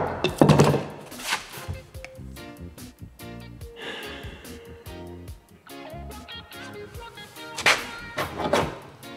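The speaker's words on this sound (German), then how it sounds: "Jetzt muss einmal live mit dem Hammer draufhauen," Sharp, irregular thuds of hammer blows on wood while building a height-adjustable desk, some loud and some softer, spread across several seconds with quiet gaps between them.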